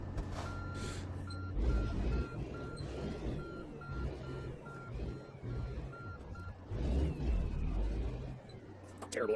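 Truck reversing alarm beeping in American Truck Simulator, a steady series of evenly spaced electronic beeps over engine rumble and road noise, with a voice talking partway through.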